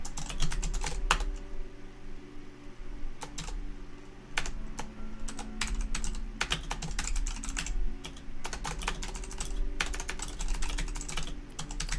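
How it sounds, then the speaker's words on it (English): Rapid typing on a computer keyboard, bursts of crisp clacks coming in irregular runs over steady background hum, close and fairly loud, without speech. "you guys can't see any of what I'm typing"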